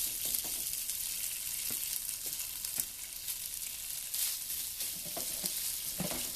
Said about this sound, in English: And now we're going to cook our shrimp. I'm just going to put 1 pound in there or so.